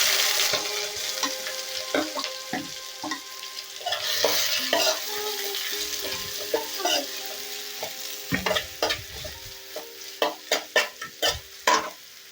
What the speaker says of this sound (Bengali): যে পেঁয়াজ কুচিটা করে নিয়েছিলাম ওটা দিয়ে দিচ্ছি।